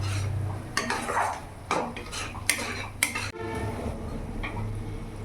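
Kashmiri chilli powder being stirred into a pan for a jackfruit and prawn curry, with a spoon scraping and clinking against metal in several distinct strokes over a steady background hum, close by and moderately loud.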